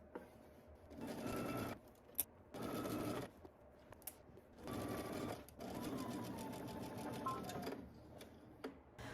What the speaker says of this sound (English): we can go ahead and stitch this using 5/8 of an inch seam allowance